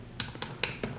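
Keys on an HP 48GX calculator are pressed four times in a steady rhythm, each press a crisp, close click with quiet pauses between.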